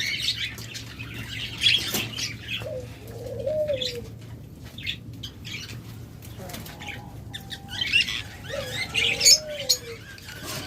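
Cockatiels, lovebirds and budgerigars kept for sale chirp, squawk and twitter in a busy, overlapping chorus, with occasional cooing calls and sharp bright peeps rising above it.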